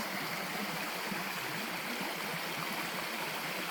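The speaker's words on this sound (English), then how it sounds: "Just gonna let you guys take a peek at this beautiful creek again." A creek flows on a woodland trail, giving a steady broadband rushing and gentle gurgle, close and continuous with no voices.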